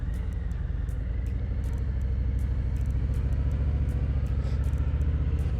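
A 2022 Harley-Davidson Fat Boy motorcycle engine idles warm, a steady loud low-pitched throbbing rumble with an even lumpy pulse, running alone without any talk.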